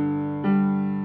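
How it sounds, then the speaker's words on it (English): A G dominant seventh chord sounds on piano, a held harmonic tone that is re-struck about halfway through and then rings on steadily, with no voice. "because this really amounts to a G dominant seventh chord,"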